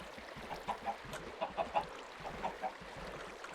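Chickens in the Minecraft video game give a scattering of short, soft clucks over a steady noisy background, fairly quiet and with no talking.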